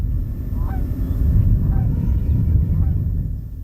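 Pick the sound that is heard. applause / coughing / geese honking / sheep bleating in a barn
geese honking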